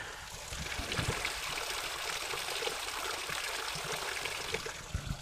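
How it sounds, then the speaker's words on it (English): Water trickles and splashes continuously from a small snowmelt mountain spring on the San Jacinto trail, close by, with an even, bubbling flow and no talking. "Nice little spring coming out here."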